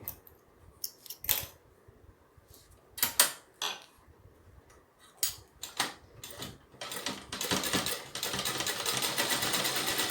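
A sewing machine runs a straight stitch along folded fabric for a skirt, heard close as short clattering bursts between pauses, then a longer continuous whirring run toward the end with no talking.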